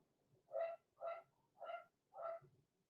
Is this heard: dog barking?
yes